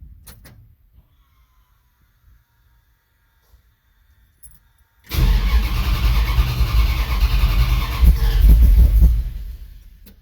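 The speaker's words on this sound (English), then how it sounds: "We'll prime it again and see." 1984 Dodge D150 pickup engine being primed and cranked after suspected fuel pump trouble: near-silence, then the engine catches and runs loudly with a rough, rising rumble before easing off.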